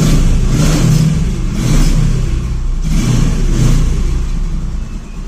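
A motorcycle engine runs close by, its mid-pitched drone rising and falling in a few gentle revs before easing off at the end, with no talking.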